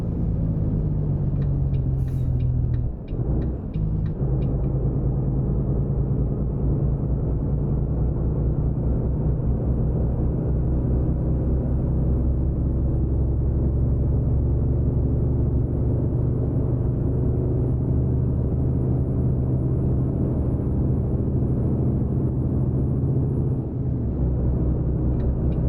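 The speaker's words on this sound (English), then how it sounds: "we are running Creechbomb's engine mod for the sounds today" A modded Volvo truck engine in American Truck Simulator drones in a deep, steady rumble for the whole stretch, with a brief hiss and a few clicks near the start.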